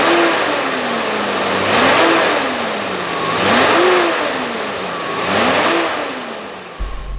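A 1989 Toyota Land Cruiser FJ62 with a 3F fuel-injected engine and automatic transmission revs up and settles back in three smooth, rising-and-falling cycles. The engine is loud and close, with nothing else heard.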